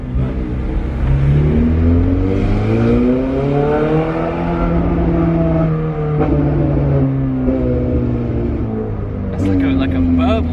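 A straight-piped Ferrari 430 Scuderia engine revs loudly and close, its tone rising and falling with throttle, while people talk over it.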